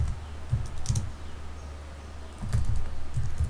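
Bursts of computer keyboard typing, a few quick keystroke clusters separated by pauses, close and clear against a low steady background hum.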